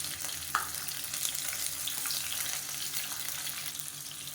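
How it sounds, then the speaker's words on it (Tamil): Tomatoes sautéing in oil in a pan for chutney, giving a steady close sizzle with a brief stir or clink near the start and no voices. "இதையும் இப்போ எண்ணெயில் வந்து நல்லா வதக்கி விட்டுக்கலாம்"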